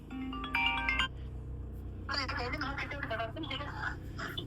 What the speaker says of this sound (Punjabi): ਘਰੋਂ ਫੋਨ ਆ ਗਿਆ ਡੈਡੀ ਦੀ ਵੀਡੀਓ ਕਾਲ ਆਈ ਆ